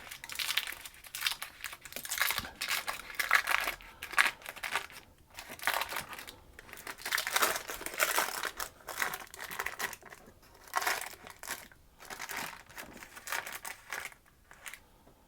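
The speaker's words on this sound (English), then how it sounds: "or I can take the wrapper off." A plastic wrapper is peeled and crinkled off a malt loaf, giving continuous close-up rustling and crackling in irregular bursts throughout, with no talking.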